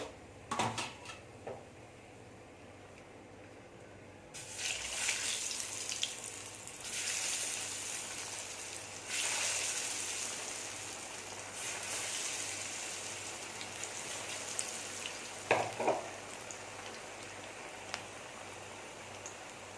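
Cauliflower 65 deep-frying in hot oil, with curry leaves added toward the end; a steady broadband hiss starts after a quiet opening and carries on with a few brief clatters.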